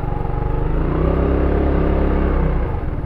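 An FKM FYRO 175 motorcycle on a ride gives a steady, loud, close engine rumble with a low droning hum that holds for about three seconds, then eases slightly at the end.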